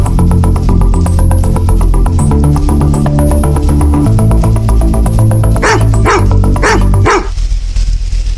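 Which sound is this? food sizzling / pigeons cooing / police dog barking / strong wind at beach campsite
police dog barking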